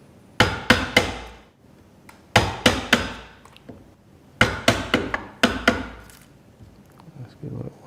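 A hammer drives an Irwin Marples high-impact split-proof carpenter's wood chisel into wood in sharp, close, loud strikes. The blows come in quick clusters of three or four, with brief pauses between the groups.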